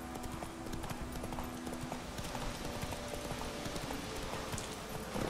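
Horse hooves clip-clop in a fast, steady rhythm as the horse is ridden in The Witcher 3: Wild Hunt on PS4. The hoofbeats run through the whole stretch with a possible faint whinny and game ambience beneath.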